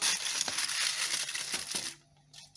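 Stuffed mackerel bound with thread, set down on an oiled, foil-lined baking tray, giving dense crinkling and rustling with a few sharp clicks, ending in a brief quiet.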